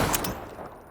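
Brief burst of assault rifle gunfire in Call of Duty from a no-recoil build, a quick rattle of shots at the start that then trails off into a fading tail, with no talking.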